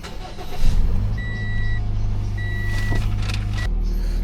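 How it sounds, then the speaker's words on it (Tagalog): A car engine starts with a brief cranking burst, then settles into a steady low idle up close, with a few electronic chimes sounding over it. "Start lang natin tong sasakyan."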